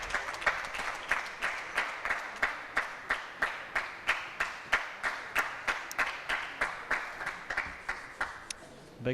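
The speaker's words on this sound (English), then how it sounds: "And he clapped long and hard." Steady rhythmic clapping from a table tennis match audience at T2 APAC 2017, a long run of evenly spaced sharp claps continuing for several seconds before thinning out.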